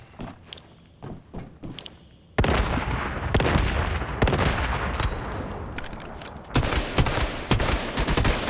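Grenade blasts and gunfire in the video game Once Human during a solo forest dungeon raid: lighter shots at first, then a sudden heavy explosion and a loud, sustained barrage of booms and rapid fire.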